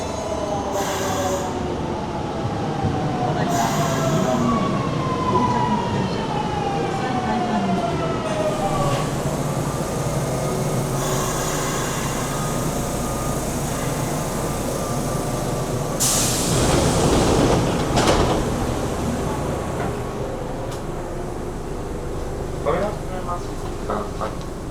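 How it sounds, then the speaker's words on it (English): A Kyoto subway train rumbles into a station and slows, its wheels squealing and screeching along the rails. Station noise and voices sit underneath. "Train will approach soon. Watch out for the train."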